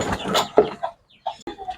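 A few short clucks from chickens nearby, brief broken calls with small gaps between them.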